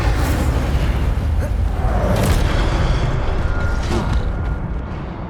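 A fire spell cast in Hogwarts Legacy roars as a loud, sustained rush of flame and rumbling blast noise, steady for several seconds before easing off slightly at the end.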